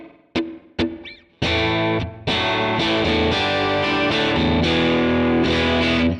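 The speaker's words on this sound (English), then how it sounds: "starting on the bridge pickup on the Bassman sound, all I have on here, as you can see, is the cab, the amp, and a bit of reverb" Electric guitar, a thinline Telecaster with humbuckers on the bridge pickup through a Bassman amp model with cab and a touch of reverb: a few plucked notes, then ringing strummed chords sustaining loud and full, alone without talk.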